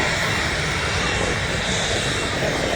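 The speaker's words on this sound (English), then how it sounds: "Virgin A350 taxiing out now." A Virgin Airbus A350 taxis at Manchester Airport, its engines producing a loud, steady broadband roar that fills the whole stretch without pause.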